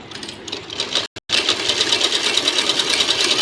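Sewing machine stitching cloth at a steady fast whir with a rapid even mechanical patter, loud and close, broken by a brief stop near the one-second mark before running on, no voices.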